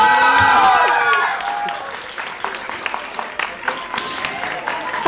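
An audience at a sustainability startup competition's grand finale at a college erupts in applause and cheering, loud at first and then thinning into scattered claps and whoops, with voices mixed into the crowd.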